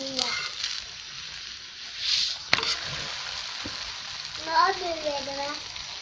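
Chicken paratha frying in a pan until light brown gives a soft, steady sizzle with a few brief clicks and scrapes, and a voice talks briefly over it.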